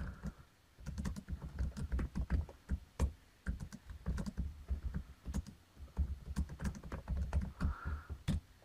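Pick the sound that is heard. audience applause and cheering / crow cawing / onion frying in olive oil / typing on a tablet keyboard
typing on a tablet keyboard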